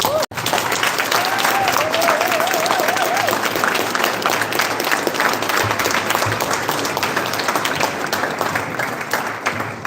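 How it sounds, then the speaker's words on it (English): Sustained applause from a crowd, dense clapping that carries steadily at full volume, with a voice briefly audible near the start. "they deserve a round of applause"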